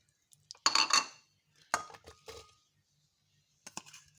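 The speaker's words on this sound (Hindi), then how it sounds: "ये मैं जग में डाल रही हूँ, तीनों चीज़ें जग में डालूँगी।" Chopped carrot, apple and beetroot pieces are tipped into a jug, making a few short clattering knocks separated by quiet pauses, close by and with no speech.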